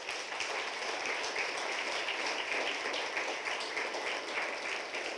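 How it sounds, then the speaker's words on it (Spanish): Church congregation applauds in praise, a steady wash of many hands clapping heard at a distance and fairly faint, unbroken for several seconds with no talk over it. "Le damos un aplauso al Señor."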